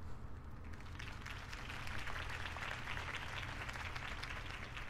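A crowd applauds after a city campaign speech, a steady, moderately distant wash of clapping over a low rumble, with no voices.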